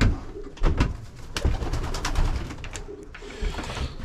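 Homing pigeons coo in a loft, soft repeated throaty calls overlapping close by with rustling and shuffling around them, no talk.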